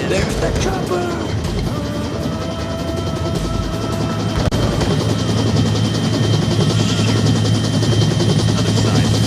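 A helicopter comes in to land in the VR shooter Onward during an evacuation mission, its rotor chop and turbine whine loud and constant, with mechanical clatter and faint game music layered over it.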